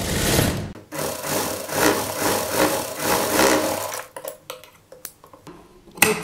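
A sewing machine stitches piping onto a child's sleeve with a fast, continuous whirring chatter for about four seconds close by, then stops, followed by scattered light clicks and handling of fabric and parts.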